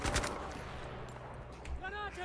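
Rapid bursts of submachine gun fire in the World War II shooter Battlefield V, loud and near at first, then thinning into scattered shots with a metallic whine toward the end.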